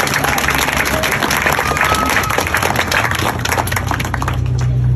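Graduates and audience at a school district commencement keynote clap loudly and continuously, with a thick, close wash of applause and some crowd murmur underneath.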